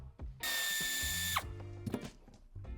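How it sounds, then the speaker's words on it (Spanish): A power drill or driver whirs loudly for about a second, backing out a screw from the central trim piece of a Mercedes-Benz M-Class W164, then winds down, followed by small clicks and handling noises. "retiramos el tornillo que sujeta esta pieza en la parte central."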